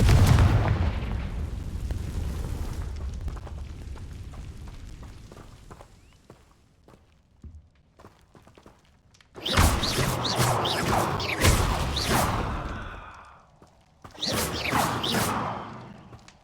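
A Confringo blasting spell goes off in Hogwarts Legacy, giving loud, crackling bursts of fiery impact that arrive in two dense volleys separated by a short lull, with a booming rumble fading at the start.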